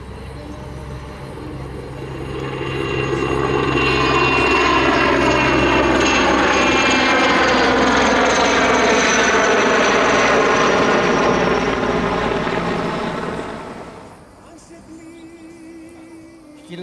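Canadair firefighting aircraft flying over a wildfire in Chasia, its engine roar swelling as it approaches, passing loud and close overhead, then fading away into quieter outdoor background.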